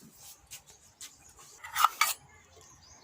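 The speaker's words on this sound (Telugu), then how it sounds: "స్టవ్ పై పెనం పెట్టుకుందాం" A griddle pan is set down on a stovetop while sesame bobbatlu are being made, giving two close, sharp metallic clanks in quick succession in an otherwise quiet kitchen.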